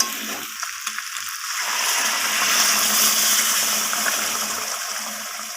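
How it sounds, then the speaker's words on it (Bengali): Hot water is poured into chicken curry cooking in a pan, a steady rushing splash that swells into a loud bubbling sizzle and holds, close by with no talking. "সেই গরম জলটা আমি মাংসের মধ্যে অ্যাড করে দেব"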